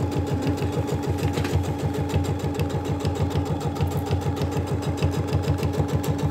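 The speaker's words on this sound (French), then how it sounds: "Donc on continue de faire sa couture," A sewing machine runs continuously along a seam of a garment, a close, steady, rapid mechanical chatter with an even pulsing rhythm and no talking.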